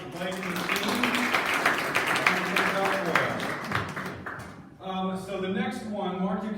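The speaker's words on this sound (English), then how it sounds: "Round of applause for Blake and the team" An audience applauds at a 757 Pitch event in July 2019, a dense, steady wash of clapping that runs for several seconds over voices and tonal music, then briefly drops before the music and chatter carry on.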